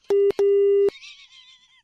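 Two short electronic beeps from a phone line, the second held longer, sound loud and clean after a hang-up, followed by a faint warbling tone fading out.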